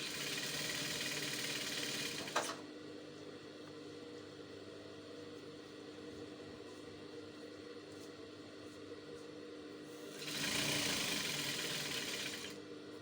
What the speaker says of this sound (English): I'm going to sew the side of the sleeve together